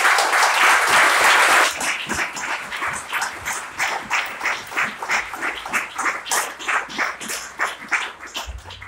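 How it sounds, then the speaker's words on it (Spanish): A church congregation applauding during a sermon: a loud burst of dense clapping that thins after a couple of seconds into a looser, rhythmic patter of individual claps continuing to the end. "El que quiera aplaudir al Señor, siéntase libre."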